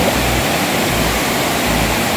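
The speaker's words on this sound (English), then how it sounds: "Maraming tubig dito sa ating waterfall sapagkat ilang araw na rin umuulan dito sa Hong Kong." A Hong Kong waterfall swollen after days of rain roars loud and close, a dense unbroken rush of falling water with no voices.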